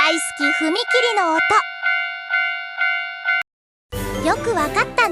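A Japanese railroad crossing bell rings a few evenly spaced, fading dings in a short burst, set between stretches of voices before and after.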